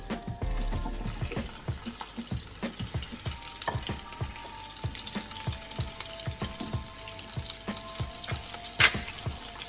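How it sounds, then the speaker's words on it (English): Shrimp frying in melted butter for a zucchini and shrimp pasta, a dense, continuous crackling sizzle with scattered pops and stirring clatter, close and steady throughout with no talking. "When the butter is melted, we add our shrimps."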